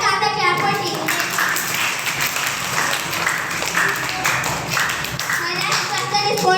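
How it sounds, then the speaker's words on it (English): Children clap in a dense, steady round of applause at a school quiz competition, with young voices chattering underneath throughout. "Correct answer clap for Team A."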